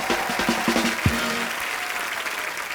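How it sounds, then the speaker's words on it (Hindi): A television comedy show audience applauds in a studio, a dense burst of clapping that carries on steadily for a few seconds. A short musical sting or tone sounds near the start. "एक बार अरशद भाई के लिए जोरदार तालियां"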